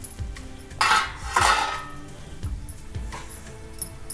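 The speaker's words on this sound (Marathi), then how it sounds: "आता आपण भाजी सर्वी व्यवस्थित मिक्स करणार आहोत" Radish bhaji being stirred in a cooking pan over low gas, giving a few sharp clinks and scrapes of a spoon against metal spaced across a few seconds, fairly close, with no talking.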